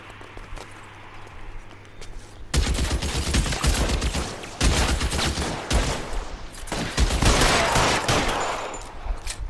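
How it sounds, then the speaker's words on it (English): Gunfire in the video game L.A. Noire: repeated bursts of shots crackle loudly across several seconds, separated by brief lulls, with no talk over them. "I can't take the shot from here, Cole. Yeah, you can, right in front of you. Open fire"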